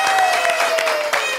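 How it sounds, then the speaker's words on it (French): A studio audience applauds the first female contestant on a French holiday-themed television program, with a steady wash of clapping that stays loud and dense for the full short burst. "applaudissez pour la première candidate"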